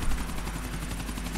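A helicopter in Grand Theft Auto IV thumps with a steady, fast rotor chop over a broad engine roar, loud and continuous with no voices.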